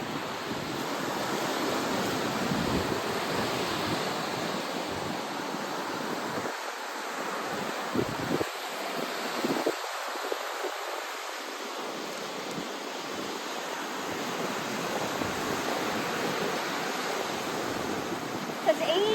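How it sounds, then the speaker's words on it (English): Ocean waves wash continuously onto a beach in a steady broadband roar with gentle surges, accompanied by some wind noise and no speech. "I'm walking along this beautiful beach"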